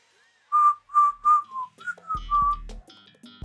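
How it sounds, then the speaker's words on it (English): A person whistles a quick tune of short, bright notes, the first three evenly spaced and steady, then a looser run with a low electronic buzz underneath toward the end. "I wish I could whistle properly sometimes."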